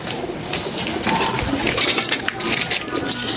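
Pigeons coo amid a noisy, rustling background, with soft calls rising briefly over a steady broadband wash throughout.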